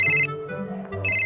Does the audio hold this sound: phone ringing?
yes